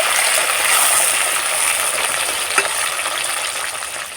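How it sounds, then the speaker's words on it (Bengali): Chopped onion and tomato frying in a little oil in a pan, a steady broadband sizzle with a faint hiss throughout and one brief tap partway through, close and even. "একটা পেঁয়াজ কুচি নিয়েছি আর একটা টমেটো কুচি হালকা একটু তেলের সঙ্গে ভেজে নেব"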